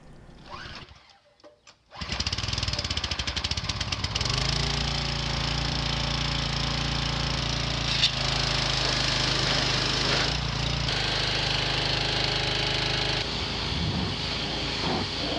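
Small inexpensive power washer engine pulled to start and then running steadily, a loud close buzzing drone with a rough, constant idle after a brief quiet startup.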